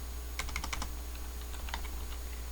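A short burst of keystrokes on a computer keyboard as a command is typed, quick light clicks in two clusters, faint against a steady low hum.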